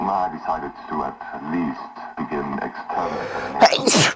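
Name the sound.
sneeze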